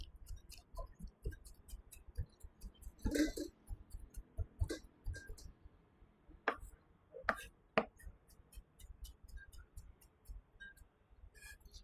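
A knife minces an ingredient by hand on a board, giving scattered, faint irregular taps, a few sharper, set against a quiet background with no talk.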